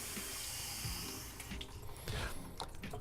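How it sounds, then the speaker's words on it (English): Water draining out of a loosened sink P-trap under a bathroom or kitchen sink, splashing into a bucket below; a steady close trickle and gush with brief louder spurts, no talking. "It's catching all of the water that's coming from the P-trap."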